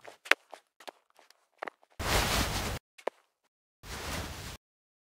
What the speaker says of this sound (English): So let's have a listen to his footsteps